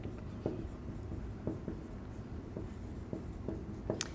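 A pen or marker scratches out a semicircular canal diagram on a surface during an anatomy lecture, making repeated short strokes in a loose rhythm. The sound is close and moderately loud over a steady low room hum, with no talking.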